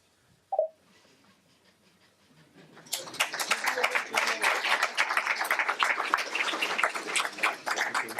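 A seated audience breaks into applause after a brief tap, the clapping building quickly into steady, dense, mid-loud applause that carries on without letup.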